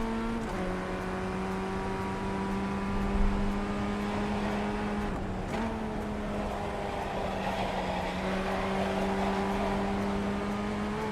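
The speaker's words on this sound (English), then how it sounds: "Still the same tyre sounds." Race car in iRacing holding a steady engine note with continuous tyre noise, a sustained droning tone that dips briefly midway before resuming at a constant level.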